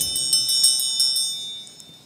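A church bell rings with repeated, evenly spaced strikes. Bright, sustained tones overlap and fade slowly at a moderate distance, with no voices.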